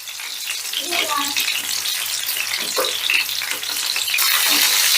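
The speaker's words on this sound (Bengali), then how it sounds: "মাছগুলো দেখো একটা পিঠ ভাজা হয়ে গেছে এবারে আমি উল্টে দিচ্ছি" Pieces of rui fish fry in hot oil in a pan, giving a loud, steady sizzle close by, with light stirring and turning noises and a voice faintly underneath.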